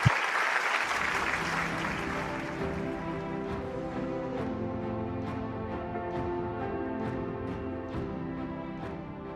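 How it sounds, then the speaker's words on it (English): A large audience claps steadily to welcome F.W. de Klerk at a Rally of Hope event, a dense, even wall of applause that holds for about nine seconds with no talk. "let us welcome His Excellency F.W. de Klerk with a warm round of applause"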